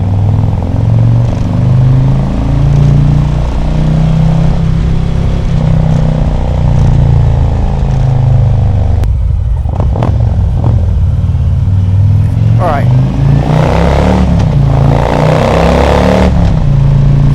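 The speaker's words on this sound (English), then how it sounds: "Let's see how well it captures the sound of the bike, the voice, minimizing the wind." A Harley-Davidson bagger motorcycle cruising at about 60 mph with the visor open, its engine rumbling loud and steady close to the mic, with shifting revs and gusts of wind noise building toward the end.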